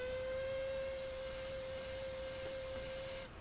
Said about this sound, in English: Let's listen to the whistle.